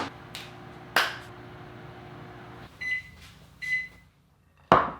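A microwave oven running to melt cream cheese, butter and milk in a bowl: a low steady hum with a door clunk, then several short beeps and a final sharp door click, heard close with no speech.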